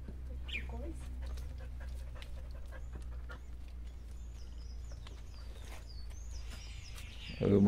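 Quick, steady panting from a small dog close by on a horseback ride at a rural ranch, over outdoor rumble with hoof clops and faint birdsong.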